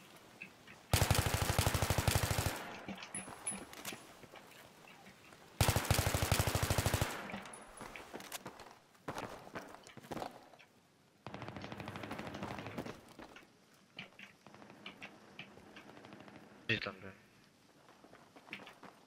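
Bursts of automatic rifle fire in a tactical team shooter match, two long loud volleys followed by scattered shots and quieter battlefield noise, with players talking over voice chat throughout.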